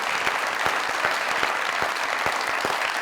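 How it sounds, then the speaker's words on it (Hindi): A standing ovation at a red carpet welcome for guests, a dense, steady wash of applause from a large crowd at an even level with no talking. "खड़े हो गया, स्टैंडिंग ओवेशन।"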